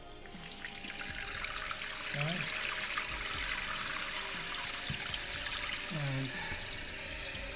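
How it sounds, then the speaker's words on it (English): Water runs steadily into a toilet tank through a newly installed Fluidmaster 400A fill valve, a constant hiss and trickle that carries through the whole stretch while a voice speaks briefly over it. "we're gonna turn on the water supply"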